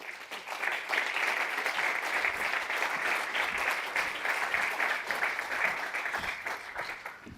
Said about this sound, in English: please give a warm applause to Lira Adlushi.